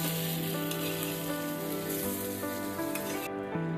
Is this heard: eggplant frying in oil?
yes